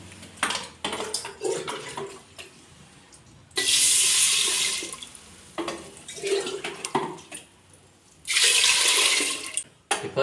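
Water runs from a tap into a pot of rice and lentils set to soak for pongal, two loud bursts of pouring separated by quieter clinks and handling of kitchen vessels.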